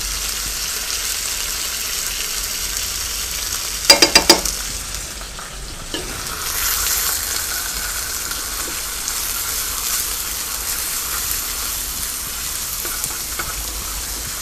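Butter sizzles steadily under frying chicken as garlic goes in, a loud continuous hiss broken by a quick run of utensil clacks against the pan near the start.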